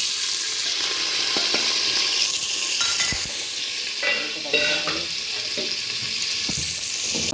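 Onion and green chilli frying in a pan with asafoetida and cumin for khichdi, a loud steady sizzle with brief stirring scrapes and crackles, close by.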